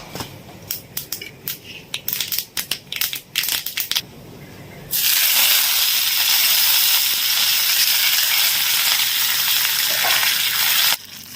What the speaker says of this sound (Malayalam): ഇതാ വെളിച്ചെണ്ണയിൽ കറിവേപ്പും കടുക് ഇട്ട് കൊടുത്തിട്ട് ഒന്ന് തൂമ്പിച്ച് ഒഴിച്ചു കൊടുത്തിട്ടുണ്ട്